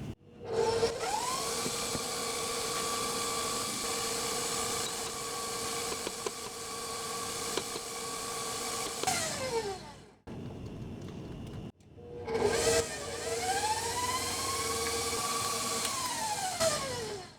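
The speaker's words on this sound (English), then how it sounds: "The biggest difference between this and buttercream is I use a paddle attachment instead of a whisk." Stand mixer fitted with a paddle attachment beating keto cream cheese frosting, giving a loud, steady motor whine that runs continuously, drops out briefly and then spins back up.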